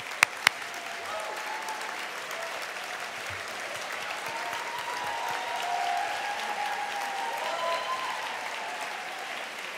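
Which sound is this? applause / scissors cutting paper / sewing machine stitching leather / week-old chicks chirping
applause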